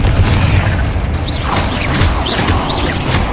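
Explosive spell blasts in the Hogwarts Legacy video game: loud booming bursts with crackling debris and whooshing game effects over a dense rumbling low end, several impacts following one another.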